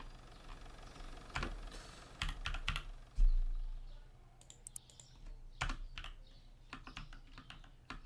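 Scattered bursts of fast clicking on a computer keyboard, quiet and close, with pauses between runs of keystrokes and a low background hum, no voice.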